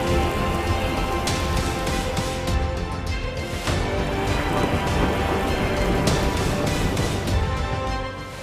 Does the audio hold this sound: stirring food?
no